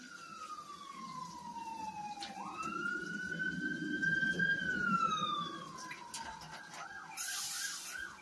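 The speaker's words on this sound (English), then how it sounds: "Sorry about the sirens, guys." Emergency vehicle siren wailing outside, a steady rising and falling tone that swells in the middle and then shifts into a faster yelping pattern near the end, heard from a home kitchen.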